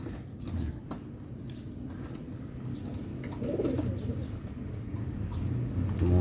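Young racing pigeons coo softly in a loft, their low, rolling calls repeating close by amid light shuffling and faint chirps.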